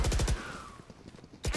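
Rapid bursts of video game gunfire rattle in quick succession at moderate volume, pause, then resume with another burst, in a tactical shooter match.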